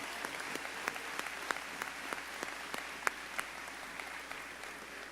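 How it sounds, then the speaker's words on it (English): Applause at a 2018 graduation commencement for the Rockford Christian faculty members, a steady wash of clapping from a crowd, moderately distant, with a few sharper individual claps standing out, no talking over it. "give them a round of applause"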